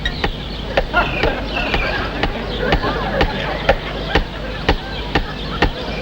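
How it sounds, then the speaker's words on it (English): A small Bavarian hammer taps persistently, sharp regular clicks roughly twice a second, steady and distinct over a busy background of murmuring voices. "The sound you heard was in fact made by a small Bavarian hammer"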